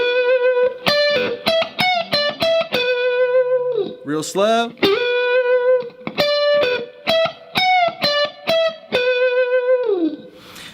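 Electric guitar plays a solo lick slowly, with slides up to high sustained notes, bends and repeated short picked phrases, distorted and loud, with a brief spoken aside partway through.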